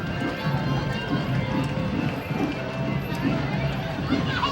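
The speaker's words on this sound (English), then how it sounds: "Miniature horses." Miniature horses clip-clop along a Memorial Day parade route, their steady hoof beats sounding moderately close beneath continuous crowd noise and ongoing commentary.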